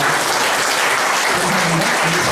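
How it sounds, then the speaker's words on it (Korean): A church congregation bursts into steady, dense applause, a close and continuous patter of many hands clapping to welcome newcomers during a Sunday service. "예, 박수로 환영하겠습니다."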